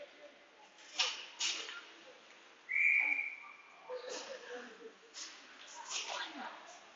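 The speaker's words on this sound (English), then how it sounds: "And we get a whistle" A referee's whistle at a girls' youth hockey game gives one sharp, fairly short blast partway through, set against faint arena noise, puck and stick knocks, and distant crowd voices.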